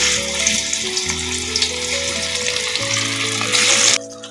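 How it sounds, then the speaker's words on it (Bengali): Katla fish frying in hot oil in a wok, giving a steady loud sizzle with a low hum running underneath, ending abruptly near the close. "এবার কড়াইয়ে তেল দিয়ে মাছটাকে ভেজে নিচ্ছি"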